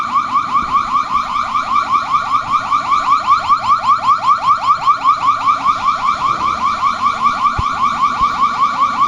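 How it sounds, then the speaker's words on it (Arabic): A gas heater's safety siren alarm sounds loud and close, a rapid repeating electronic warble cycling steadily for about nine seconds, with a single sharp click near the end. "نسمع السرينه كده مع بعض."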